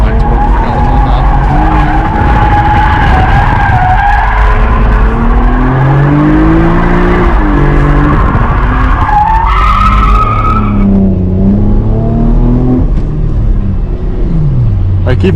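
An automatic V6 Camaro drifts on a race track, its tires skidding and squealing loudly throughout over a steady engine roar that rises and falls in pitch.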